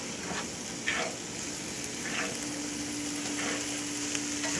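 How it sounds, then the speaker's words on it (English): Crab, shrimp and scallops sizzle in a hot skillet with a steady broadband hiss and a few soft spatters rising over it, close and constant. "you hear that sizzle, so you hear the heat coming to the meat"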